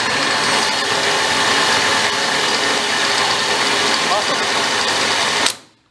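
Old Harley golf cart transaxle pulled from a scrap yard, shifted into high gear: a steady, loud mechanical whir and rattle runs continuously, then cuts off abruptly near the end.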